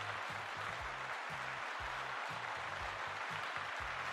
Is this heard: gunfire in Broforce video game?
no